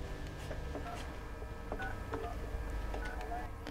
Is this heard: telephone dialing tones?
yes